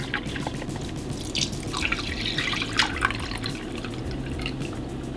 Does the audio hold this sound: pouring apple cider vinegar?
yes